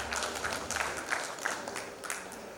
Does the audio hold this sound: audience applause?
yes